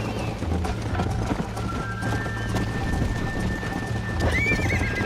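Horse hooves clip-clop in a steady galloping rhythm through Red Dead Redemption gameplay, with a rising neigh near the end over a faint rainy backdrop.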